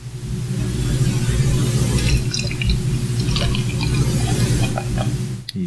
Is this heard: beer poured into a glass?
yes